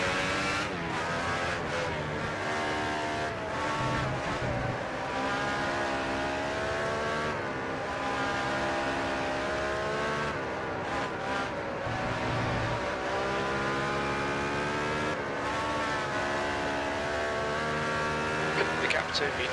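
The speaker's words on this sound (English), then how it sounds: "Jim, we're in a Brabham. Not a very good one." A Brabham Formula 1 car in a 1991 racing video game at Suzuka drones with a steady, high, whining engine note that rises and falls slightly with gear changes, loud and continuous throughout.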